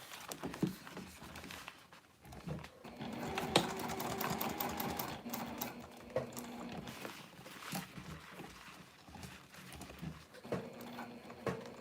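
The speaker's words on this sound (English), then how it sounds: "I'm going to stitch down that middle seam line there." A sewing machine stitches down the middle seam of a mini box tote, its motor whirring in steady rapid bursts with brief pauses, close and fairly loud.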